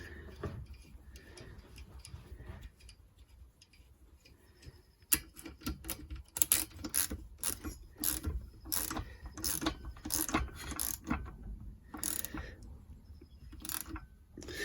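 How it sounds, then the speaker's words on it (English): Ratchet clicking as a nut is tightened during a Puch Maxi E50 vintage moped engine rebuild, starting as faint ticks and turning into bursts of rapid close clicks in the second half. "So now I can put the nut back on."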